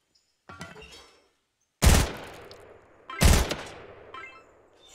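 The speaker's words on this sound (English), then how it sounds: "Probably a shotgun would be better." Shotgun blasts in a video game shooting gallery: a light shot, then two loud, sharp booms about a second and a half apart, each with a decaying tail.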